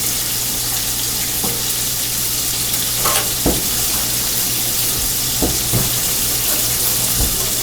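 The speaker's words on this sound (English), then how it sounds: "Let that bacon keep on cooking." Bacon sizzles steadily in a pan, a constant hiss with occasional clinks and taps, close and fairly loud.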